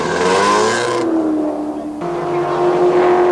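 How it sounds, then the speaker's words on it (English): Swinford Motors Mercedes race car pulling out of a pit stop during a 1985 24-hour endurance race at Snetterton, its engine droning steadily with a rising, changing pitch as it rejoins, loud and close, with no talk. "Down goes the bonnet, and it's back into the race for the Swinford Motors Mercedes."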